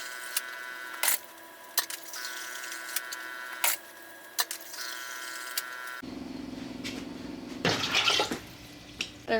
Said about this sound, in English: I do have a filtered water dispenser, so I'm just gonna be doing that.